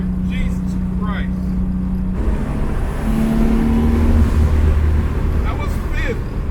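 A turbocharged 1JZ-engined Lexus LS400 pulling hard under boost, with a loud engine roar from inside the car that drops out at a gear change and comes back in a higher gear, joined by short bursts of excited talking.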